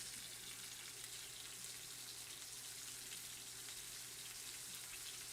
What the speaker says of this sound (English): I know you can hear that sizzle.